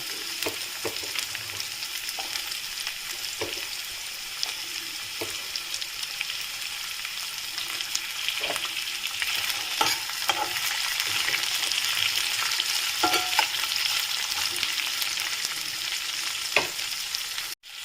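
Onions and carrot sizzling in a pan for paneer chilli, a continuous close sizzle under intermittent stirring scrapes and light taps, with no voices.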